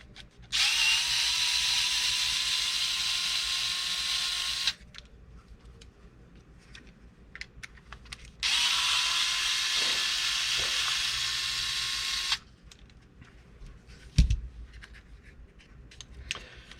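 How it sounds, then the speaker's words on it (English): A power tool backs three bolts out of a tank in two sustained whirring runs of about four seconds each, separated by quiet handling noises, followed by a single dull clunk. "Alright, so I'm going to pull these 3 bolts out."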